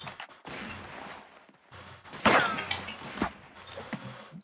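Gunfire in a first-person video game: a burst of sharp shots and a loud crack ring out over muffled game noise, close and punchy, with a few lighter clicks and thuds after it.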